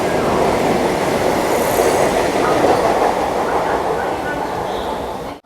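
The Sambalpur Amritsar Express arrives at Tundla Junction with a loud, steady rolling rumble and wheel clatter close by, holding for several seconds before cutting off.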